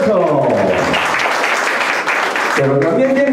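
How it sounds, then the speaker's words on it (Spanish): Guests clap at Dionicia Jimenez Isla's 80th birthday gathering, a brief, loud burst of many hands between stretches of talking that falls away quickly as a voice resumes. "¡Venga, el aplauso!"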